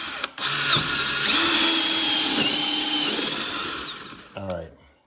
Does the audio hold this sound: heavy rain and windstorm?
no